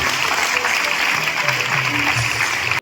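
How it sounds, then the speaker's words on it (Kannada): A hall audience claps loudly and continuously for students' parents at a NEET achievers' felicitation ceremony, the dense applause holding steady before cutting off abruptly at the end. "ತಂದೆ ತಾಯಿಯವರಿಗೆ ಒಂದ್ಸಾರಿ ಜೋರಾಗಿ ಚಪ್ಪಾಳೆ ಹಾಕಿ ನಾವು ಅಭಿನಂದನೆ ಸಲ್ಲಿಸಬೇಕು."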